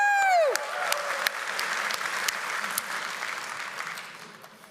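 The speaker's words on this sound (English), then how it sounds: "Come on, round of applause." Dense applause from a convocation audience cheering graduates at a Mohawk College ceremony, steady and full for several seconds, with a brief whistle-like cheer at the start and slowly fading toward the end.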